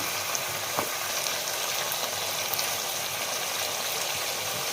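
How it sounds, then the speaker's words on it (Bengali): Ghee sizzling in a pan with frying spices for a vegetarian navratan dish, a dense, steady crackle held close and loud throughout, with no voices. "এরপরে দেবো আমি ঘি"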